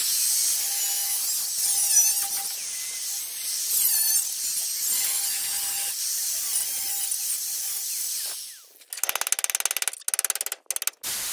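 Old repair being cut off a Land Rover Series 1 with a power tool: a sustained, high-pitched whining cut for about eight seconds, then choppy, stuttering bursts of grinding, heard close with no talking.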